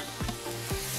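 Squid rings and garlic frying in a pan, a soft steady sizzle with faint stirring scrapes, close and without talk.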